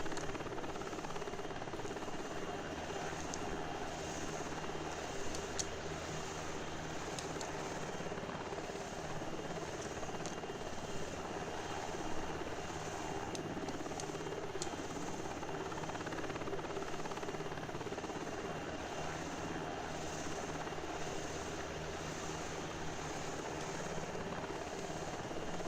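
A helicopter in the FSX/P3D flight simulator drones on with a steady, even rotor and engine roar for the whole stretch, and no voices are heard.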